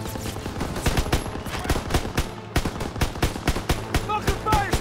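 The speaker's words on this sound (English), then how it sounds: "Gotta suppress the machine gun!" Rapid machine gun fire from a WWII-era weapon in Call of Duty WWII rattles in loud, sustained bursts, with sharp repeated reports piling up over steady battle noise and no voices.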